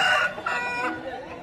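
Rooster crowing at the Palayam Friday weekly market in Dindigul district: a loud, near, drawn-out cock-a-doodle-doo with a strained, wavering tone, set against market bustle.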